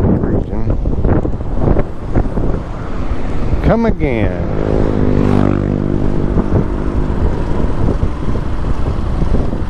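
Heavy wind buffets the microphone in loud, gusty rumbles at the north tip of Mactan Island, Philippines, with a brief spoken remark and a passing engine-like whine partway through.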